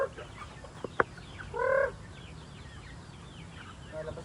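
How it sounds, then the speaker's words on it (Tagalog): Young chicks on a small farm cluck briefly as they are let out after rain to roam and forage, a short burst of near clucking followed by a few soft calls over quiet outdoor background. "palabasin muna natin yung ating mga sisiw na manok na yun, yung mga maliliit natin na manok, para makagala-gala sila din"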